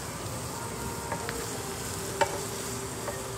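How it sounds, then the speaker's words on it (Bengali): Vegetables for fried rice frying in a pan, a soft steady sizzle with a few faint clicks of stirring, fairly quiet and alone with no voices. "একদিকে তো ফ্রাইড রাইসের সব সবজিগুলো ভাজছি"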